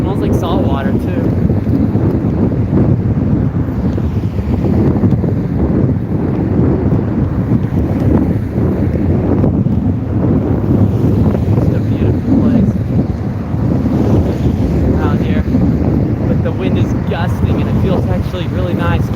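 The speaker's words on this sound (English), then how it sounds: "The wind is gusting." Strong gusting wind buffets the microphone on an open coastal road near salt water, heard while biking; a loud, continuous roar surges and dips throughout, with a voice talking underneath.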